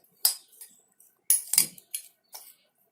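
Spoon stirring a paneer paratha filling in a bowl, a few separate scraping and clinking strokes spaced across the moment, fairly close and quiet, no talk.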